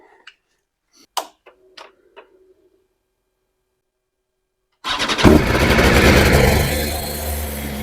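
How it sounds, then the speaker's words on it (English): A few sharp clicks and ticks, then a BMW M1000RR motorcycle engine with an aftermarket exhaust fires up abruptly and settles into a steady, loud idle rumble. "Let's start the bike and see."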